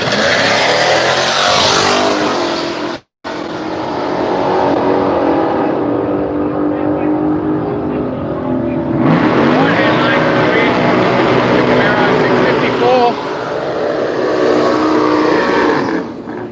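A radial drag car with a Ford crossflow engine races at Willowbank, Australia, its loud engine roaring and revving hard with a brief cut, then surging again, with a voice talking over it.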